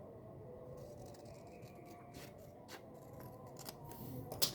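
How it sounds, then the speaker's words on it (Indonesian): Scissors snipping through packaging to cut the product name off a parcel, several faint crisp cuts against a quiet background, with a sharper snip at the end. "ini nama produk kita gunting ya"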